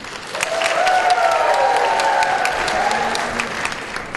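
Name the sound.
congregation applause and cheering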